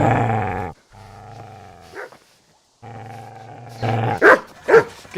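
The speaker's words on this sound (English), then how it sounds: "Get away, you mutt!" A dog in the video game Kingdom Come Deliverance growls in long, low rumbles broken by short pauses, then lets out several sharp, loud barks near the end.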